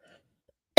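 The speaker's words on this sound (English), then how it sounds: "that cough kind of got me." A single short, sharp cough comes suddenly after near silence, close and fairly loud.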